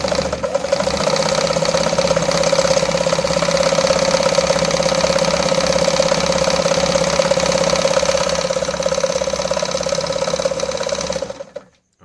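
Toyota zigline sewing machine running steadily as it stitches a zigzag, a continuous close whirring mechanical drone with a rapid needle clatter that holds unbroken for about eleven seconds before stopping abruptly.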